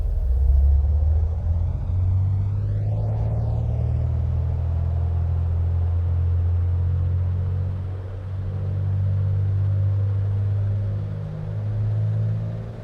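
Twin engines of a Piper PA-44 Seminole in a flight simulator, a steady, low droning rumble at high power that holds throughout with slight swells.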